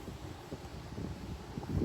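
Low, steady wind from a tropical storm on Oahu, Hawaii buffets the microphone, a continuous rumbling gust with no other distinct sounds.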